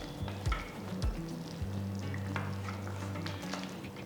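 Crab curry frying and simmering in a kadai over a medium flame, a steady close sizzle with a few spatula scrapes and clinks against the pan, no voices.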